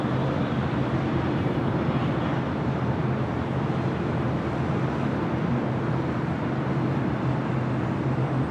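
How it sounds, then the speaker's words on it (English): Japan Airlines Boeing 787-9 Dreamliner jet taking off from LAX's south side, a steady broadband roar of engines and rushing air that holds loud and unbroken throughout. "Next takeoff on the south side is on the Japan Airways Flight 5, heading back to Tokyo Narita 787-9 Dreamliner."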